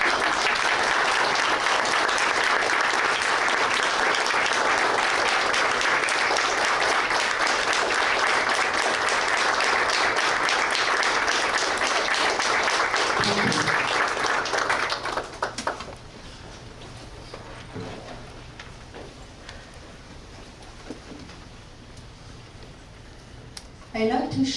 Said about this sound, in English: I would like to ask everyone to stand up, please, and clap their hands